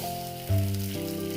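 Salted boiled potato added to spices in hot mustard oil, a soft steady sizzle with a brief louder burst midway, faint and close with no voices.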